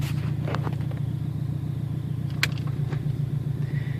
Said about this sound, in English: this is basically rocking the car forward and backward